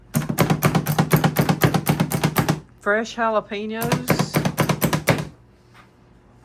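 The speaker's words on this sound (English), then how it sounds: "I think we're chopping one and slicing one." Rapid, steady knife strokes chop fresh jalapeños on a board, loud and close, with a short pause where a person speaks before the chopping resumes.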